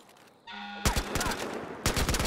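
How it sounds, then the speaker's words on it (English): AK rifle gunfire in Pig Simulator 2015, loud close bursts of rapid automatic shots, a long string followed by a second burst after a brief pause, over game background noise. "Get him good with my AK."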